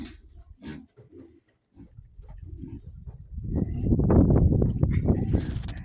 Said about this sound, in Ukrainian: Ну, той кабанчик ще такий гарненький.